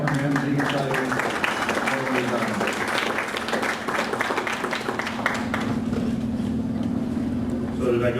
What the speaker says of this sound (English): let's give Terry a big round of applause and welcome him